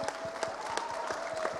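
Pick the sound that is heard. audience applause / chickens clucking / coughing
audience applause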